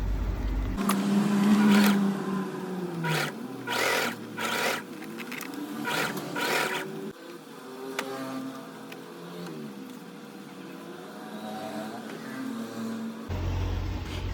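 A sewing machine stitches a zipper onto a crocheted flower puff bag, running in several loud, steady bursts with short pauses between them, then carrying on more quietly under a continuous mechanical hum.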